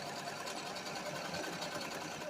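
A home sewing machine runs an edge stitch on a garment, giving a fast, steady mechanical whir with a rapid needle rhythm, close up and alone for a couple of seconds.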